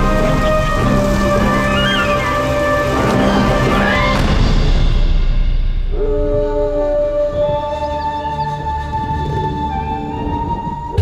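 Heavy rain pours steadily while a deep rumble of thunder rolls through, with some tonal background sounds layered over the downpour.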